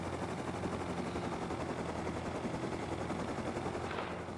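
Gunfire in the video game Rust, rapid continuous bursts of shots like automatic fire, loud and dense throughout, with a faint rising whine near the end.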